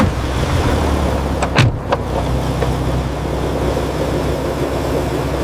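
Steady low rumble of an idling car with a brief mechanical whir and a couple of faint clicks near the start.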